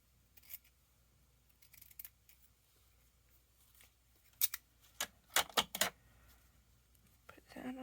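Scissors snip through paper for a spring journal page, a few faint cuts early then a quick cluster of crisp, close snips midway, with soft handling noises between and no talking.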